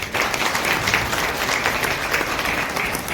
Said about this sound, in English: let's cheer ourselves by giving a round of applause.